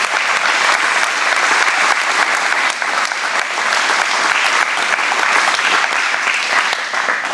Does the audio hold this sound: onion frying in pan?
no